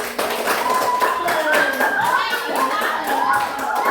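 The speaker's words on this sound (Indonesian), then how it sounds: "silakan tepuk tangan untuk kelompok" Scattered hand clapping from a small group of schoolchildren applauding a classroom group, uneven and fairly close, with light chatter and children's voices mixed in.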